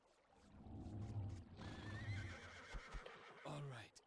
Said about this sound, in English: And I'm catching more horses, of course, because horses are important.